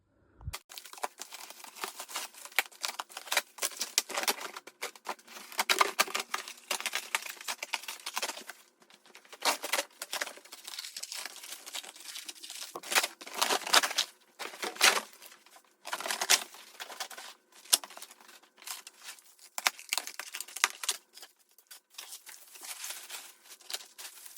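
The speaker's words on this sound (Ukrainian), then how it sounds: "А зараз розпаковую і показую вам." A BEST-brand egg incubator is unpacked from its packaging: close, busy crinkling and crackling of plastic wrap and rustling material that runs in uneven bursts throughout, with brief pauses and no voices.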